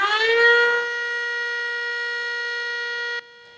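An emergency warning siren sounds during a red alert for flood evacuation in Taiwan, a loud rising wail that settles into a steady sustained tone and then cuts off abruptly.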